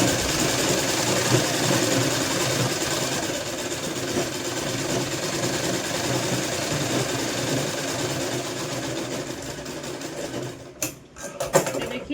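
A sewing machine stitches a sleeveless kurti in one long steady whirring run, close and continuous, before it slows and stops with a few clicks and knocks at the end.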